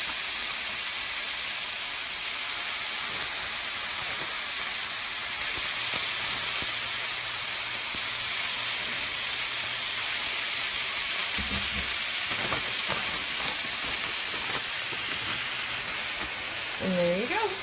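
Jalapeño chicken frying in olive oil in a pan, giving a steady broadband sizzle and hiss that runs the whole time, growing a little louder partway through, with faint clinks and brief stirring noises near the end.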